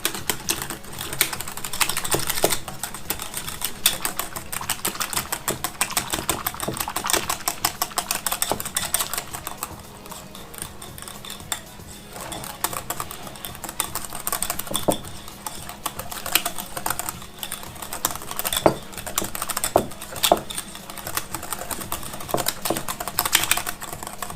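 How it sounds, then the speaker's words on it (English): Gelatin and cornstarch mixture whisked until smooth, making rapid continuous ticking and clicking of a whisk against a bowl, steady and close with brief pauses. "Going to switch to whisking. I want to get this nice and smooth."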